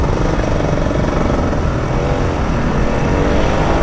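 An old Kawasaki Ninja RR 150 two-stroke motorcycle ridden home through rain in Jakarta hums loud and close with light throttle, a steady, buzzing engine drone that never drops away.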